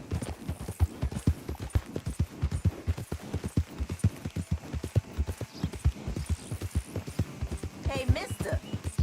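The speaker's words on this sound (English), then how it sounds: "that's one nice-looking horse you got there" Horse hooves clip-clopping at a steady trotting rhythm in the Western open-world game Red Dead Redemption 2, close and continuous, with a brief whinny near the end.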